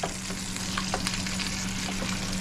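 Oxtails searing in a pan with brown sugar and a little oil, giving a steady, moderately quiet sizzle under a low hum, with a few faint crackles and light knocks up close.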